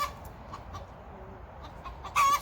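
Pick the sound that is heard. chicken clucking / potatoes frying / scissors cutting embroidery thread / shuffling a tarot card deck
chicken clucking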